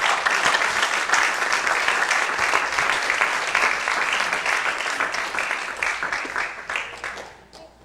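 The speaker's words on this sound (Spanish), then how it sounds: "Dele palmas al Señor." A church congregation applauds during an Exodus Bible study, loud sustained clapping from many hands that carries on for several seconds before tapering off at the end.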